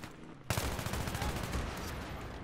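Rapid gunfire in a Battlefield 3 multiplayer match on Wake Island, a sudden onset of dense automatic shots crackling continuously and loudly after a quieter moment, with sniper fire in the mix.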